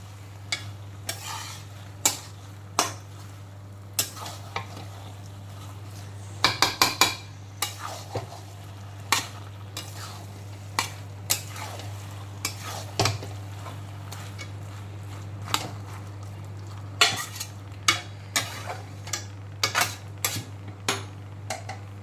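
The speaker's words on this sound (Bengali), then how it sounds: "এঁচোড়গুলোকে সমস্ত মশলা ডিম এগুলোর সঙ্গে ভালো করে কষিয়ে নেব" Raw green jackfruit, not boiled beforehand, is worked with spices and egg in a pan: repeated spatula scrapes and clinks at an irregular pace over a faint sizzle and a steady low hum, with no talking.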